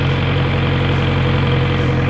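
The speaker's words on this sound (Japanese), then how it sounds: "ぐもった湿った太い低い音で、4気筒なんでこう連続したサウンドがずーっと流れ続けてるんですけど" A Kawasaki Z900RS four-cylinder motorcycle engine runs at a steady idle, a continuous deep, muffled, thick low hum with a faint mechanical whir, close and loud throughout with no talking.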